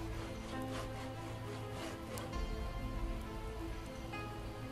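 Steady rain patters on surfaces in the zombie survival game Project Zomboid, a continuous dense hiss of drops with no voices over it.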